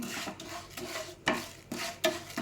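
Urad dal fries in two spoons of coconut oil while being stirred, with rhythmic scraping strokes in the pan every half second or so over a soft, close sizzle.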